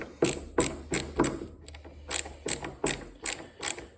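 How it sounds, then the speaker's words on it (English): A ratcheting screwdriver set to loosen backs out a tight screw, giving about ten sharp, evenly spaced ratchet clicks at close range with a steady low hum underneath. "So we'll just put our screwdriver in there."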